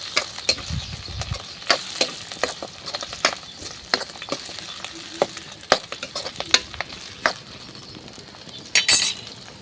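Onion and tomato pieces frying in a pan for a Rayalaseema-style home dish, with soft continuous sizzling broken by frequent scraping stirs and clinks of a utensil against the pan, ending in a brief louder rattle.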